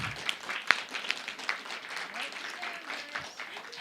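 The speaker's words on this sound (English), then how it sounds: "I want a round of applause" Scattered clapping from a small crowd, light and uneven, fading into soft murmuring.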